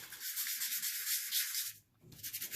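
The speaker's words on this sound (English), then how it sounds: "I just lightly sanded the top." Sandpaper lightly rubbing across the top of a junk journal cover, a near, steady back-and-forth scratchy hiss with short strokes, pausing briefly before resuming more faintly.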